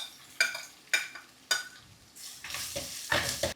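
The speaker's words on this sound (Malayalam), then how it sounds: "ഇഞ്ചിയും വെളുത്തുള്ളിയും ചുവന്നുള്ളിയും പച്ചമുളകും എല്ലാം നല്ലപോലെ വഴന്നു" Ginger, garlic, shallots and green chilli sauté in a pan for a stingray fish curry. A spoon scrapes and stirs in three sharp strokes, then a louder sizzle builds over the frying, close by with no talking.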